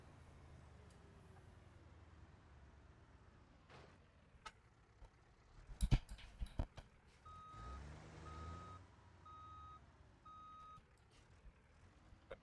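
A big flatbed truck reverses in BeamNG, its regular backup beeps repeating in an even rhythm over the low engine hum, following a cluster of knocks and clunks.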